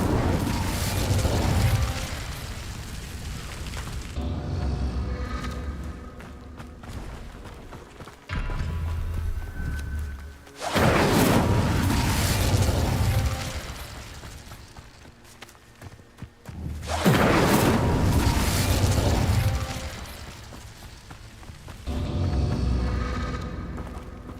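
The Incendio fire spell in Hogwarts Legacy, cast inside the Room of Requirement, fires off in three loud whooshing bursts of flame several seconds apart, with quieter game ambience between them.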